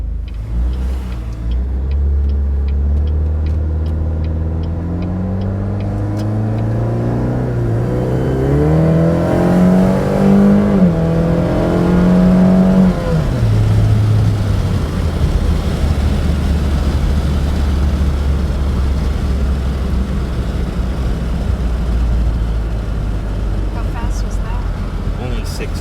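A turbocharged Saturn Sky Redline GXP engine, running slightly hot, drones loudly and steadily while driving, its pitch climbing through a rev then settling back to a constant cruise hum, with a voice talking over it.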